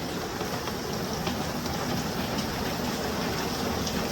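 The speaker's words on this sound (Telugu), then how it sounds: "పిల్లలు అనుకుంటారు వర్షం పడతా ఉంది" Heavy rain pouring down steadily around a small house, a dense, constant broadband hiss with no pauses, loud and close.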